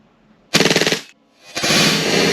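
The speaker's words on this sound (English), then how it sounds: "Let's see what the full auto is." Tokyo Marui MWS airsoft rifle on full auto: a rapid, loud burst of about seven shots, a brief pause, then a longer sustained run of fire, with no talking.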